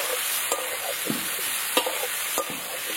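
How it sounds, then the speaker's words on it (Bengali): Chopped onion frying together with potatoes in a pan, a steady close sizzle with occasional stirring scrapes and clicks of a utensil, no voices. "পেঁয়াজটা ভালো করে এবার আলুর সাথে ভেজে নেব"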